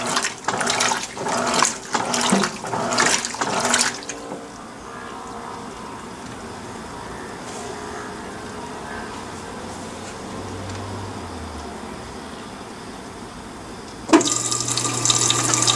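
An Electrolux Perfect Wash 16kg top-loading washing machine agitates briefly with sloshing bursts, then water pours in steadily to adjust the level, a continuous rushing fill with a low pump hum, before a louder surge near the end.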